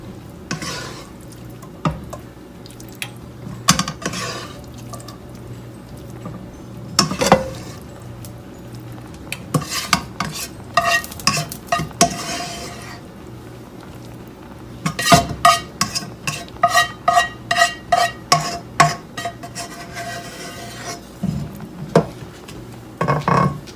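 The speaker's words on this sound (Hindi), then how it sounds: "कीमा की लेयर बिछानी है।" Dum keema being layered and stirred in a pot, with repeated metallic clinks and scrapes of a spoon against the vessel, soft squishy stirring and a faint sizzle underneath, growing busier toward the end.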